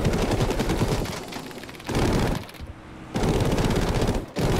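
Machine guns of a Spitfire fighter in Battlefield 5 fire in loud, sustained rapid bursts, with two long strings separated by a short pause and a brief cut-off near the end.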